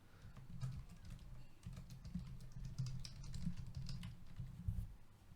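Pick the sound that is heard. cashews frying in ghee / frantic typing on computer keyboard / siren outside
frantic typing on computer keyboard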